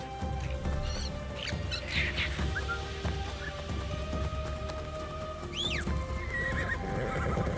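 A horse in the Assassin's Creed Shadows game whinnies and its hooves clip-clop at a gallop, with bird chirps over a steady game soundscape and no talk.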